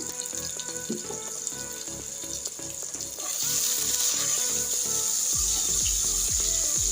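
Cinnamon sticks and cardamom pods sizzle in hot oil for Old Dhaka Haji biryani. A steady close frying hiss with faint stirring clicks swells louder partway through.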